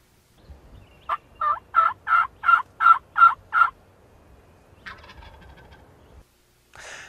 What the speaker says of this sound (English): he gobbles, and he's up at the pond now